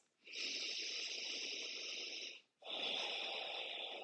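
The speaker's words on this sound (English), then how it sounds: "take a few breaths." Slow, deep breaths during a yoga stretch: a long, steady airy exhale, a brief pause, then another breath, close and soft with no talking.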